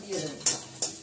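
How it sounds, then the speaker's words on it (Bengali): Lentils go into a cooking pan with a soft rustle and sizzle, followed by two sharp metallic clinks of a utensil against the pan. "এবার ডালটা দিয়ে দেবো।"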